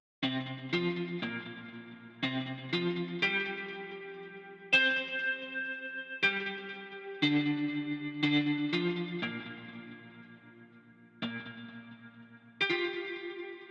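Guitar melody sample from a track, plucked notes and short phrases with effects, echo and chorus-like shimmer, in a sparse pattern of repeated figures with gaps between them, played alone.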